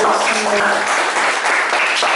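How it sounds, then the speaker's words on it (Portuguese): Church congregation giving a round of applause after a scripture reading, dense steady clapping from many hands, loud and close, with no voices above it. "Vamos dar uma salva de palmas para a palavra do Senhor."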